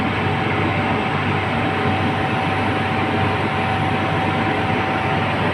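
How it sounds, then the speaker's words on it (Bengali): Ambience at Sintra train station in Portugal, a steady loud broadband rumble and hiss like a train idling or moving nearby, with a constant tonal hum and no speech. "এখন এক্স্যাক্টলি দাঁড়িয়ে আছি সিন্ত্রা ট্রেন স্টেশনে"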